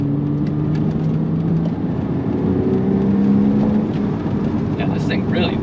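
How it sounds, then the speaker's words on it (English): Porsche 987 Cayman S engine rising steadily as it accelerates, a smooth mid-pitched tone climbing under constant road and wind noise heard from inside the cabin, with a voice joining briefly near the end. "The engine just sings and revs out so beautifully."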